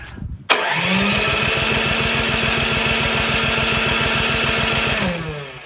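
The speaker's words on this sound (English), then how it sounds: "we're gonna test the electric start" Troy-Bilt Storm 3090 30-inch two-stage snowblower on electric start, the starter cranking steadily for about five seconds with a rapid, even pulsing churn, loud and close, the engine never catching before it stops.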